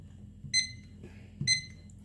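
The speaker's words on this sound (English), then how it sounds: "This is the alarm, on, off." A radio-controlled weather station's alarm clock gives two short, high electronic beeps about a second apart over faint background noise.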